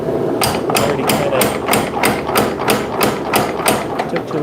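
A power hammer at a forge strikes a hot knife blank, shaping the finger choil with a fast, regular series of loud metallic blows, about three per second, under a low mechanical hum.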